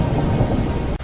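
Heavy rain pours steadily through a thunderstorm, with loud rumbling thunder and no voices.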